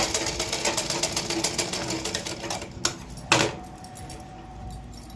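A sewing machine stitches the side seam of a blouse, running in a fast, steady, rattling rhythm for a few seconds before stopping, followed by a couple of louder knocks and a quiet hum.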